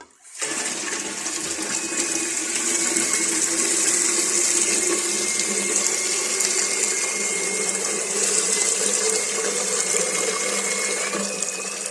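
Water is poured in a steady continuous rush that starts sharply and stays constant and fairly loud for the whole stretch, with no talking.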